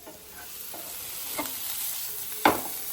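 Paneer cubes frying in oil in a pan, a soft steady sizzle that grows slightly louder, with a few faint utensil scrapes and one sharper stir near the end, with no voices.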